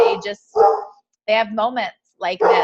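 A dog barks in the background in short bursts that mix with a person talking close by.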